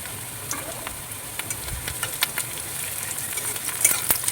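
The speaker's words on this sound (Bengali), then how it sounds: "কড়াই গরম হয়ে গেছে এবার আমি দিয়ে দিচ্ছি পেঁয়াজ" Steady sizzling and crackling of onions frying in a hot pan, with scattered pops and no voices.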